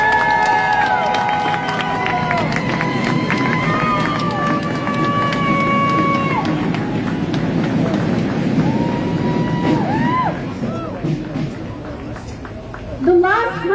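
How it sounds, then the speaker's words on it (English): A large outdoor crowd at a street rally in Melbourne cheers and whoops, with scattered shouts and voices, the roar easing partway through before a burst of clapping near the end. "Give yourselves a round of applause."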